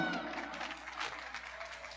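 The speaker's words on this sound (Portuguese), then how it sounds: "Uma salva de palmas, gente!" An audience at an education event in Brazil gives a round of applause, a dense, even patter of clapping hands that stays fairly faint and distant for the whole stretch.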